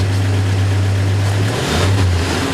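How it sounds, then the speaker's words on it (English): A 1961 Studebaker Lark VI engine is revved up close by, a loud sustained drone whose pitch holds and then shifts as the throttle changes, heard alone. "Car revs up nicely."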